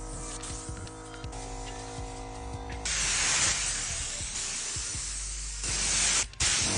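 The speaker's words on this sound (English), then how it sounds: "I sprayed lacquer to provide a beautiful finish to the outside only" A compressor hums steadily, then a loud, continuous hiss of a spray gun spraying thinned lacquer bursts in and runs for several seconds, pausing briefly before resuming.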